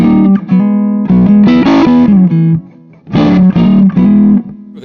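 An electric guitar plays through a DG Custom 30 amp set clean with the bright switch on, in loud, ringing phrases of several sustained notes and short gaps.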